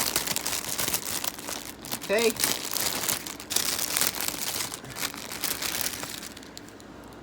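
Plastic packaging crinkles and rustles as a Blaze the Cat plush toy is unboxed, with brief crackling bursts close by and a person speaking briefly.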